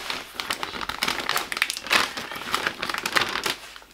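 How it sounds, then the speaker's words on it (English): Plastic crinkles and tears as an MRE flameless ration heater bag is ripped open at its top notch, a close burst of crackly rustling bursts that continues for several seconds. "Tear the flameless ration heater bag open at the top notch of the bag"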